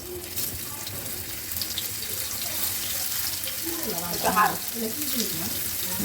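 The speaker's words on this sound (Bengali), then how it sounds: "চুলাই আগে থেকে কড়াই বসিয়ে রেখেছি এখন একে একে ভেজে নেব" Slices of pointed gourd (potol) fry in oil in a wok, giving a steady, even sizzling hiss throughout, with a voice speaking briefly partway through.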